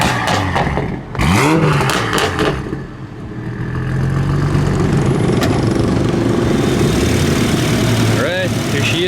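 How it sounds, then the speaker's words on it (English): A 2020 Toyota Supra fitted with a big turbo kit, custom manifold and Turbosmart wastegate, its engine loud and close, revving up and then holding a rough, steady drone, with voices speaking over it. "So go ahead and rev it up for us."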